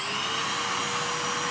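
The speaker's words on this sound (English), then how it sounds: "Dust extractor on." A shop dust extractor runs steadily after being switched on for woodworking, giving a loud, even broadband whoosh with a faint tonal whine and no talking.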